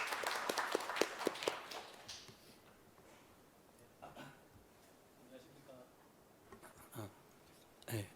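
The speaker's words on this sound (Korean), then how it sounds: "큰 박수로 맞이해 주시면 고맙겠습니다." Audience applause at a Korean policy seminar on financial and telecom fraud, loud clapping from a crowd for a couple of seconds that fades into room noise and scattered sounds as a speaker steps up.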